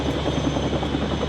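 Helicopter rotors chop steadily in the video game Still Wakes The Deep, a dense, even whirring throb with no voices over it.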